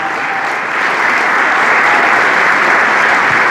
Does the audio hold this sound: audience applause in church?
yes